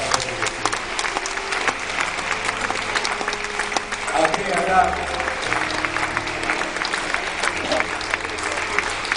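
A discotheque crowd applauses for the performer, a dense and sustained roar of clapping and cheering. A voice speaks briefly over it while music-like tones sit underneath.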